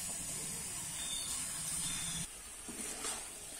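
Bethua greens and mung dal cooking in a pan give off a steady steamy hiss and sizzle, with low scraping from stirring that drops away partway through, then resumes faintly.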